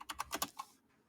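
Rapid keystrokes on a computer keyboard, about six crisp taps in quick succession, close and clear, then silence.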